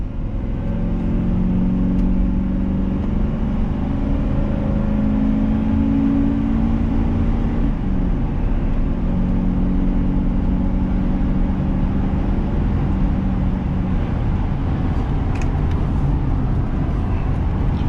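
A steady engine drone from a moving 2004 Chevrolet Express 2500 cargo van, loud and continuous, with road rumble and slight pitch shifts as it runs.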